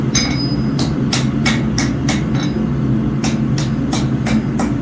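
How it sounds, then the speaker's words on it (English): A hammer forging Damascus steel for a knife blade, about a dozen evenly spaced ringing strikes over a loud, steady workshop roar. "we're going to start relatively thick, forge it down to the widest point of our blade,"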